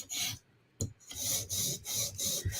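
Repeated rasping strokes of a blade drawn across an abrasive stone on a TSProf Kadet guided sharpener, removing the burr on one side; about five even back-and-forth passes after a brief pause, close and steady, no talk.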